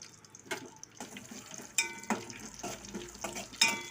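Garlic, cumin, mustard seeds and dried red chillies crackle in hot oil in a pan, a soft sizzle broken by irregular sharper pops and spatters, close by and without speech.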